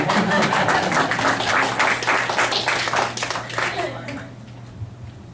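An audience at a meeting breaks into applause, a burst of many hands clapping close and loud that thins out and fades over a few seconds.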